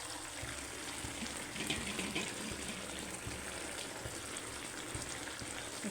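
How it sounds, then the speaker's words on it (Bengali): Water pours steadily into a pan of egg curry on a home stove, a continuous close gushing splash with no voices over it. "জল দিয়ে দিচ্ছি, এখন ডিমগুলো দিয়ে দিই।"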